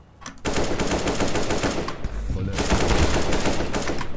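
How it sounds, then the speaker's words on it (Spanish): Rapid automatic gunfire from the video game CS:GO, loud and continuous bursts with a brief pause near the middle, dense rattling shots filling the clip. "¡me salió disparando!"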